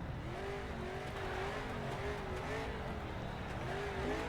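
Street stock race cars sit stacked up on the start-finish line at Daytona, their engines rumbling and droning steadily together, with faint commentary underneath.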